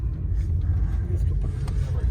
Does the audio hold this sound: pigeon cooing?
no